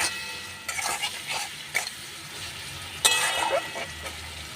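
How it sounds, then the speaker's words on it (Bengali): A tomato masala for paneer curry being stirred and fried with a little water in a pan, giving intermittent scraping strokes over a soft sizzle, close and alone. "এটা ভালো করে নাড়াচাড়া করতে হবে যতক্ষণ না টমেটোটা সেদ্ধ হচ্ছে। এভাবে দেখুন, হালকা জল দিয়ে মশলাটাকে আমি সুন্দরভাবে কষে নিচ্ছি"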